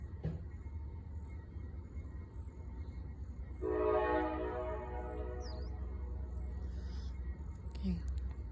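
A CSX freight train sounds its horn in the distance: a sustained multi-tone blast that swells midway and fades over several seconds, over a low rail rumble and outdoor background, with faint chirps.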